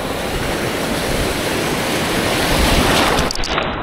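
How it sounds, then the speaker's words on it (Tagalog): Strong ocean waves on the coast at Hinatuan, Surigao del Sur, during a fishing trip make a loud, continuous rushing surge of surf and spray with no voices. "Napakalakas ng alon."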